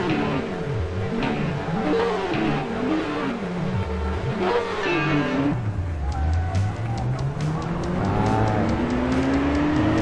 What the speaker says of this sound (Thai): กด A นะครับ เป็นการเร่งเครื่อง